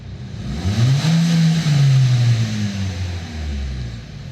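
A warmed-up car engine with an oil pressure warning problem revs up loudly and close, its pitch rising to a sustained high rev before sagging back down toward idle, heard alone without speech.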